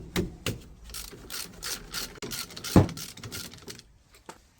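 A 15mm spanner ratchets on the brake caliper guide pin bolt of a Nissan Note, giving a run of close, dry clicking ratchet strokes with one sharper knock partway through.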